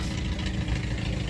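A stock 2.2-liter Ecotec race car engine, standard five-speed, idles with a steady low rumble, close and continuous for the whole moment, with no talk over it.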